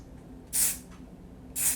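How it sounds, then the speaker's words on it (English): Two short hissing bursts of heat-protection hairspray, about a second apart, close and crisp against a quiet background. "I am going to take the spray and just lightly spray it"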